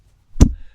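A single sharp slap, a close and loud smack of hand on skin, with brief quiet before and after it.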